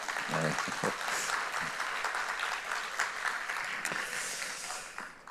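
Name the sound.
audience applause for a church choir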